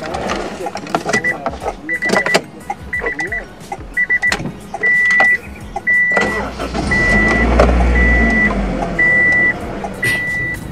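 A 2002 first-generation Honda CR-V is being driven, with a low engine rumble and road noise, repeated electronic chime beeps and scattered clicks. Voices talk over the car sounds at times.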